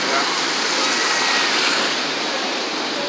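Ocean waves break at the beach in a loud, continuous roaring wash of surf heard close and steady, with no distinct pauses.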